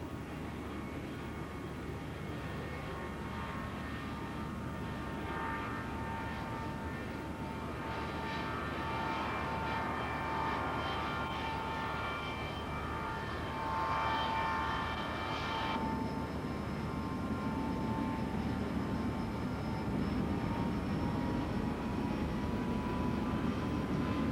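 Lockheed U-2 / TR-1A reconnaissance jet at an air show, a steady loud jet engine roar that swells midway and holds, with a high whine entering near the end, no talk.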